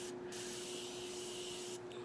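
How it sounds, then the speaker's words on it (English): Morphe setting spray misted onto a face during a makeup routine, a soft breathy hiss held for a couple of seconds between brief pauses, quiet and close, with a faint steady hum beneath. "So then I spray my face"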